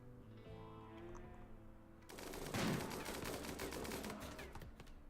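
Colonists in RimWorld mass-fire at a muffalo herd, opening with a brief tonal tone and then breaking into a dense, rapid rattle of overlapping gunshots at moderate volume.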